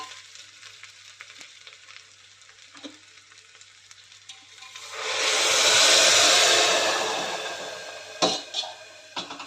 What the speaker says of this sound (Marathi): ते पाणी घालते यामध्ये